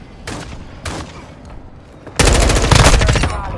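Call of Duty Modern Warfare II firefight: a few isolated shots early on, then a loud, sustained burst of rapid automatic gunfire close by.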